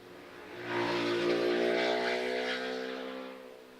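A motorbike engine drones past, rising to a loud, steady whine and slowly fading as it moves away.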